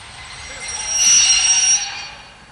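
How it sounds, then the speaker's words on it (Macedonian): Passenger train 3641 from Niš, Leskovac, Vranje and Kumanovo pulling into a station's first track, a steady wide rumble of wheels on rails swelling in the middle with a thin high wheel squeal, then easing off. "Патничката воз 3641 од Ниш, Лесковац, Врање и Куманово пристигна на први колосек."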